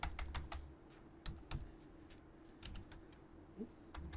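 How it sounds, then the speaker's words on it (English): Someone types on a computer keyboard with quick irregular clicks, a burst at the start and scattered taps after, quiet and close with no talking. "just type a keyword here"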